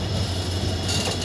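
Train standing at Londa railway junction on an electrified line, ahead of coupling with a WDP 4D diesel locomotive; a steady, loud low rumble with a constant hum runs throughout, and hiss swells near the end.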